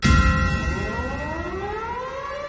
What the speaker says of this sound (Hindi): राजधानी कीव के एक चर्च में घंटे के साथ सायरन की भी आवाज सुनाई दे रही थी